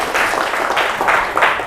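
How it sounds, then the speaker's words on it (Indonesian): Classroom applause from a group of students in an Indonesian language lesson, a steady dense patter of clapping that swells in a few waves over a short stretch, fairly loud and close. "Tepuk tangan untuk Hairil."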